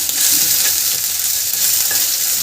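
Ginger, garlic and green chili paste sizzles and fries in oil with cumin in a pan, a steady, close hiss with faint stirring scrapes and no talk.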